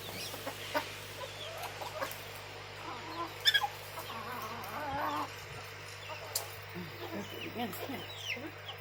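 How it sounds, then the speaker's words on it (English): Backyard chooks cluck softly in scattered bursts over a low steady hum, with a few louder squawks near the middle. Quiet background chatter can be heard. "some of these chooks are very, very fussy"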